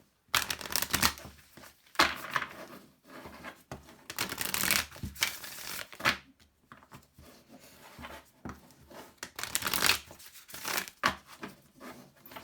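Oracle cards are shuffled in repeated papery bursts of riffling and sliding, close to the ear, with short pauses between rounds and no talking.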